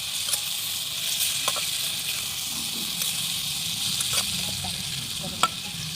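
Potatoes frying in hot oil while being stirred in a pan, a steady close sizzle broken by scattered scrapes and small pops over several seconds, with no voices.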